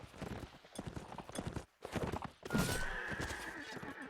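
A horse in a video game, likely in a medieval-style match, whinnies loudly while its hooves clip-clop in quick rhythm throughout, with a bright call near the end.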